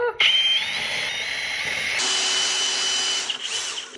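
A power drill spins a makeup brush in a cleaning device, giving a steady high-pitched mechanical whir that shifts in pitch partway through and runs continuously throughout, close and fairly loud.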